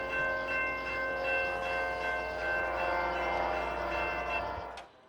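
The rear of a short freight train on the Seattle Subdivision rolls past, a fairly close steady rumble carrying ringing, tonal wheel or bell-like overtones, cutting off abruptly near the end.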